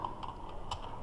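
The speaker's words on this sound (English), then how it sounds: "so I'll continue typing." Keys clatter on a computer keyboard during a word-processing lesson, a quick run of light clicks with a couple of sharper strokes, close and fairly quiet, with no voices over it.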